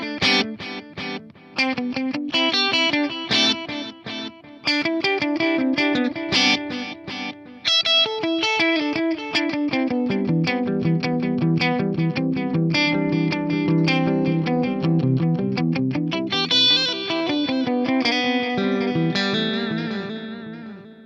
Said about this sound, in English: So let's crank that up because I like warm sounding delays.